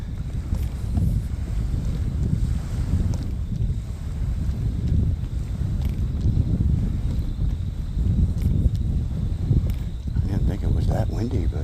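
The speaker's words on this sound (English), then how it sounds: "Peaceful sound of waves slapping the shoreline" Wind-driven lake waves slap a shoreline in a state park, heard as a continuous low rumbling wash with strong wind buffeting the microphone and some voices in the background.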